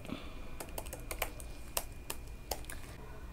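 Someone typing code on a computer keyboard: scattered, irregular key clicks at close range over a quiet room hum, with no talking.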